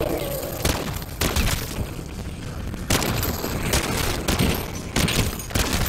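Repeated loud sniper rifle shots crack out in bursts every second or so, with a dense, noisy battle background throughout, from the video game Call of Duty: Modern Warfare 3 Zombies.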